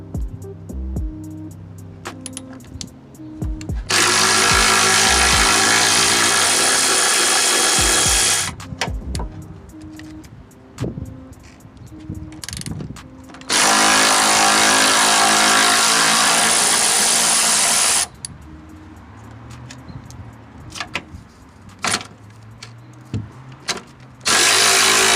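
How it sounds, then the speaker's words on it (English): On a 2006-2013 Chevy Impala, a power tool with a 15mm socket spins off the strut mount nuts in three long, loud whirring bursts, separated by clicks and handling noises from the work, with no speech. "remove the 3 nuts that mount the strut to the chassis using a"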